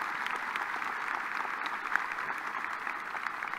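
Audience applause at a fall graduate school commencement ceremony, a steady, dense clapping from a large crowd that holds evenly for several seconds without voices.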